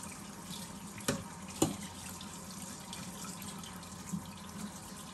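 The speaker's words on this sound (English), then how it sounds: "Now I'm gonna rinse these off here. Just rinse that pickling water off of them." Tap water runs steadily into a sink as pickled beans are rinsed of their pickling brine, a soft, continuous hiss broken by a couple of faint clinks.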